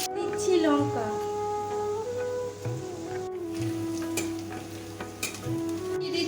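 Whole cumin, onion and chilli frying in oil for lentil dal, a steady sizzle with occasional stirring scrapes beneath a voice speaking throughout.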